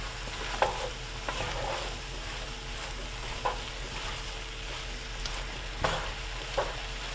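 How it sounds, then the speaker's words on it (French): Potatoes tossed with spices in a frying pan give a constant sizzle broken by scattered scraping clicks of stirring, close and even. "On brasse le tout pour que les ingrédients soient bien mélangés aux épices."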